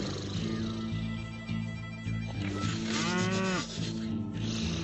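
A single cow moos in a video game, a drawn-out bellow rising over a steady hum of game music and background noise.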